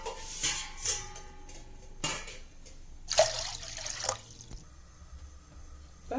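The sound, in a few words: water being poured into a pot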